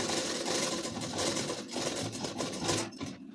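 A sewing machine stitches lace onto a ladies' suit, running as a continuous, dense mechanical rattle that is loud and close throughout.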